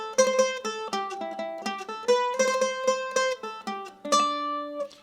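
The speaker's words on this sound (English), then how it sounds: "there are clean single note triplets that sound like this." Mandolin picking clean single-note triplets in a jig: bright, plucked tones in quick groups of three, evenly articulated and close, played alone with no talking.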